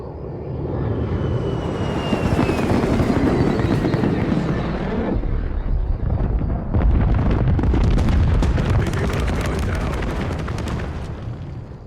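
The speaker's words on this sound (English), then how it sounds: "Air is inbound for bomb run." An airstrike bomb run in Modern Warfare III roars in with a jet engine, then a heavy string of loud, close explosions rumbles on for several seconds, with no talk.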